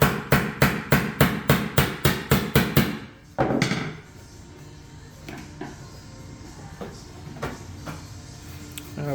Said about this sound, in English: Probably best doing it with a chisel and hammer, as Martin's doing